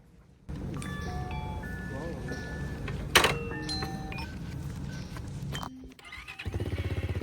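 A 100-kilogram moped engine is started for the first time, catching and running with a steady, loud buzz that holds for several seconds, then dips and settles into a faster idle rhythm near the microphone.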